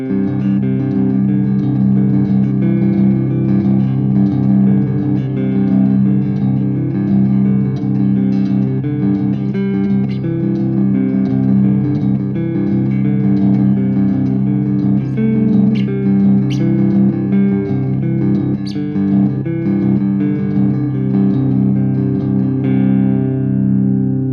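An ESP LTD Viper 1000 EverTune electric guitar on its neck pickup plays a warm, distorted riff with reverb, sustained and loud, repeating melodic phrases throughout without any voices.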